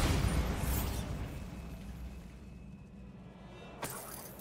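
A Bombarda blasting spell goes off during a troll fight in a Harry Potter video game, a loud burst with crackling debris that fades into a rumbling tail, followed by a second sharp impact near the end.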